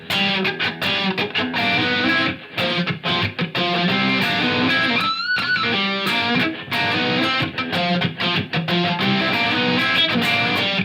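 A distorted electric guitar riff played at a slow, steady pace, four bars with sustained chords and a brief slide in the middle; no voices.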